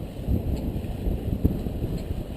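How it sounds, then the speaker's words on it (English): Steady wind of about 16 knots rushes and buffets while sailing off North Eleuthera, a low continuous roar of gusts against the microphone alongside faint boat and water noise, with no voices. "Got about 16 knots of wind, true."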